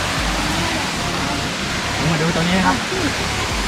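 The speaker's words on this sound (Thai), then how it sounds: "น้ำตกก็จะลงรูลง ลงรูตรงนั้น" Steady broadband rush of a waterfall pouring down into a hole, at Namtok Saeng Chan in Thailand, loud and close, with someone talking over it.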